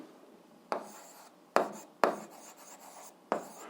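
Pen strokes on paper, scratching in four distinct bursts with light scraping between them, close and fairly quiet, with no talk.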